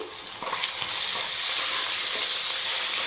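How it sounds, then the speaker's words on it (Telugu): Ginger garlic paste sizzles steadily in a pan, a dense continuous frying hiss that swells slightly after the first half second, with a few soft stirring clicks and no voices. "ఇప్పుడు దీంట్లో అల్లం వెల్లుల్లి పేస్ట్ కూడా వేసుకున్నాము పేస్ట్ వేసి ఒక ఫైవ్ మినిట్స్ వేయించుకోవాలండి"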